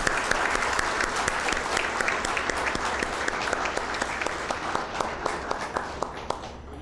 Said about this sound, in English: Let's clap for all of them.